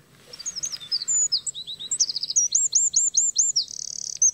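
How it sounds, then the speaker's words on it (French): A Eurasian wren sings in a town setting, pouring out a loud, rapid stream of high, shrill twittering notes and sharp trills that builds into a fast repeated series and ends in a buzzing rattle, clear over faint background noise. "Troglodyte mignon."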